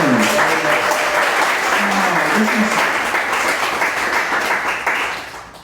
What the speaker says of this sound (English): give yourselves a round of applause for making it to Eastwind Studios.